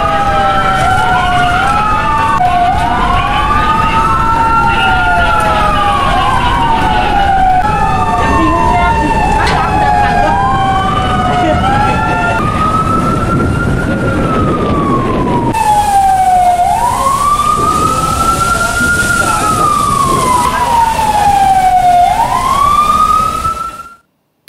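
Ambulance and fire truck sirens blare close and loud during a port security drill at Pelindo in Palembang. Several overlapping wails rise and fall continuously, then settle into one slow, sweeping siren over a rumbling engine.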